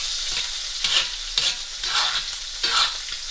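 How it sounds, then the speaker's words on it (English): Steak frying in a pan of butter and basted with a tablespoon, a steady bright sizzle swelling with each spoonful of hot butter poured over, several rhythmic surges, close and without talk. "Don't be afraid to use a tablespoon just to baste it like so."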